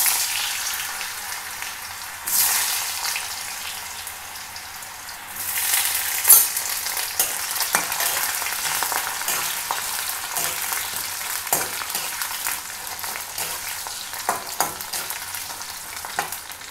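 Potatoes fry in oil in a pan for veg pulao, a steady sizzle broken by the scrape and clatter of a spatula stirring them, with two louder bursts of hissing early on.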